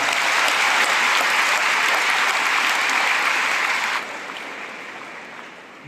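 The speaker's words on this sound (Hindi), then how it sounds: "मैं चाहता हूँ एक बार अपने सम्मान में तालियां बजाएं" Loud, dense audience applause for Prime Minister Narendra Modi at a public event, steady and sustained, then dropping to a softer level toward the end.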